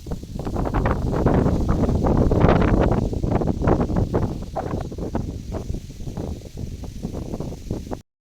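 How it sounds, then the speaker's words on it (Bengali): Strong wind gusting outside living quarters, a loud, continuous roar buffeting the microphone, with rustling and flapping swelling around the second and third seconds before easing slightly, no voices heard. "আজকে বাইরে প্রচণ্ড বাতাস তোমরা আওয়াজ বুঝেই বুঝতে পারতেছ কতটুকু মানে বাতাস চলতেছে হাওয়া দিতেছে"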